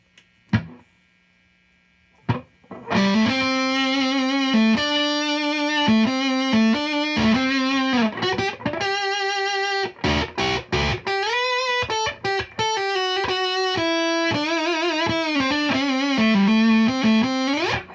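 An electric guitar runs through a 2:11AMps Ultimate Fuzz Face prototype pedal, playing sustained, singing fuzz-toned notes and a melodic line, loud and alone after a couple of brief opening plucks.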